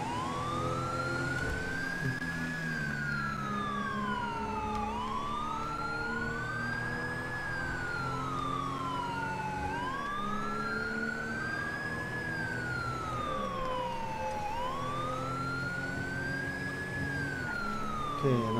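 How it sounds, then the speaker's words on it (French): Fire truck and ambulance sirens from GTA V with the LSPDFR police mod, loud and continuous, several wailing sirens overlapping and sweeping up and down together throughout, with a low engine rumble beneath. "Fire truck responding code 3. And, ambulance en route responding code 3."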